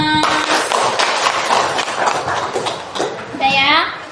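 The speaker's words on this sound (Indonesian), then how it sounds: "beri tepuk tangan untuk Dimas" A room full of people clapping for Dimas, a dense burst of applause lasting a few seconds before fading, with a voice speaking over the end.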